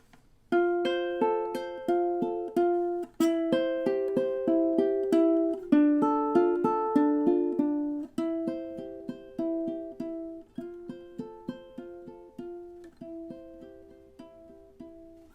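Ukulele playing the closing of a song: a steady pattern of plucked, ringing notes that grows gradually softer toward the end before the playing stops, heard alone and close.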